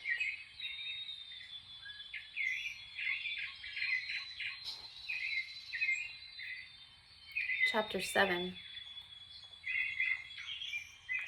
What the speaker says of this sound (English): just listen to those beautiful birds